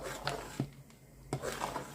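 A spoon scrapes and clinks against a pot of apple jam in a few short bursts, with soft stirring scrapes in between. Close and fairly quiet, with no voices.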